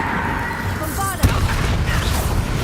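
A Bombarda blasting spell from a Harry Potter video game goes off as a single sharp burst, loud over a dense, busy layer of game effects and music.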